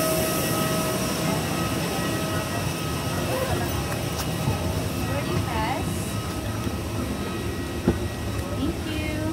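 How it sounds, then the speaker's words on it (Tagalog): Inside an airplane cabin, a steady broadband engine and air hum fills the space with faint clatter and chimes, and voices murmur under the drone. "Dito na tayo sa loob ng eroplano."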